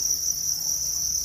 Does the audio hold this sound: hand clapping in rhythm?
no